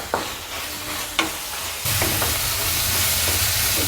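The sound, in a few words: turkey berries stirred with onions in a frying pan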